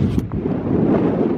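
Heavy wind buffets the microphone on a freezing, snowy path in a low, rumbling roar that stays loud and constant for the whole moment.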